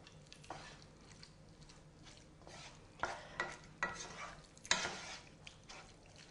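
Cooked minced meat being stirred into tomato sauce for bolognese, giving soft wet squelches and scrapes that come in a few separate bursts, close by, over a quiet kitchen background.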